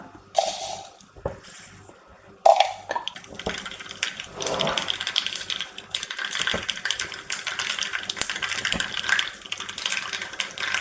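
Mustard seeds drop into hot coconut oil in a pan, a sharp hit followed by a dense, steady crackling splutter that continues close by.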